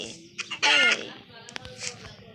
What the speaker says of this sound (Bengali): এই মুরগি